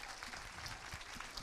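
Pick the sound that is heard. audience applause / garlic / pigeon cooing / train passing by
audience applause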